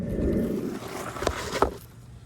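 A deep, rumbling 2004 Pontiac GTO V8 engine revs briefly with a throaty exhaust burble through loud blast pipes, close by, rising then settling over a couple of seconds.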